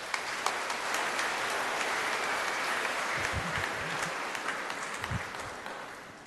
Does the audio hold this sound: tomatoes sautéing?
no